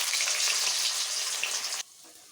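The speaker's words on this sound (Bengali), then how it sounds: "পনিরটাকে ভেজে নেব" Cubed paneer fries in a pan with a loud, dense, hissing sizzle that holds steady for nearly two seconds, then drops away to a faint background.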